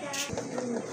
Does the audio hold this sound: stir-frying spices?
no